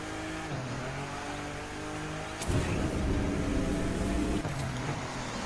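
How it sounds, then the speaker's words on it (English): A car in The Crew 2 drives onto a bridge, its engine humming steadily before it swells into a louder, revving rush as the car speeds along. "So let's go driving on that bridge."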